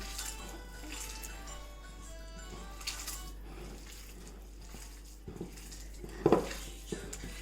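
Ground beef mince frying with onions in a pan while being stirred, a steady soft sizzle with occasional scraping clinks of the utensil.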